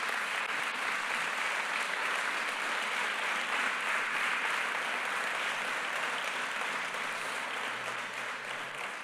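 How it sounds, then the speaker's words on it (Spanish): A congregation at a Saturday church service claps loudly and steadily for several seconds, a dense, sustained wash of applause with no break. "Dale un fuerte aplauso a Jesús entonces."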